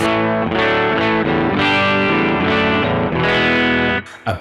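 A Hagstrom Deuce F electric guitar with its volume rolled back plays a run of ringing chords in a slightly dirty, crunchy tone, loud and close, with no voices.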